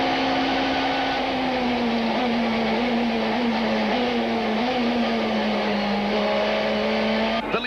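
Super Touring race cars at Killarney circuit in 1995, a sustained engine drone from a passing car that holds a steady pitch with slight shifts, loud and continuous without speech.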